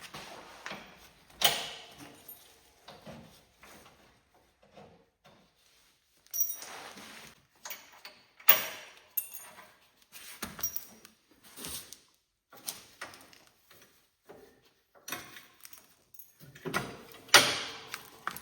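Pins are pulled from the hood of a Cub Cadet Super Cyclops, heard as scattered metallic clicks, scrapes and clunks in irregular bursts, close by, with quiet gaps between them.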